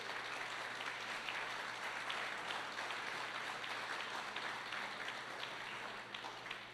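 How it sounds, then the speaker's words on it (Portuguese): A church congregation applauds, a steady, dense wash of many hands clapping that holds evenly throughout at a moderate, somewhat distant level, with no speech on top. "pode aplaudir Jesus."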